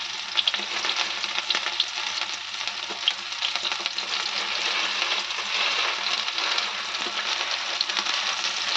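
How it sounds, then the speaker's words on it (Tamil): Curry leaves frying in hot oil for a Tamil garfish curry, a steady close sizzle with light crackles and occasional stirring. "லைட்டாக வந்து கருவேப்பிலை போட்டுக்கலாம்"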